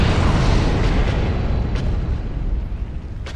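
A box explodes in Dark Souls Remastered, producing a loud, dense, sustained blast with a deep rumbling roar that fills the low end, slowly tapering over a few seconds with faint crackles near the end and no voices.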